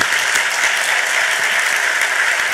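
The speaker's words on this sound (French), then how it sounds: "On peut l'applaudir à nouveau." Steady, dense applause from an audience at a tenth-anniversary ceremony announcing contest results, loud and continuous throughout with no voices over it.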